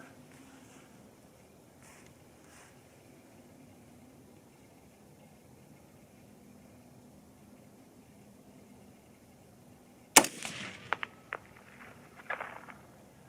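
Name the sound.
rifle gunshots firing .243 Winchester factory loads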